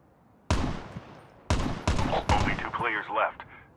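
A handful of sharp, close gunshots ring out in Call of Duty Mobile's battle royale zombies mode, some single and some in quick pairs, followed by a voice talking.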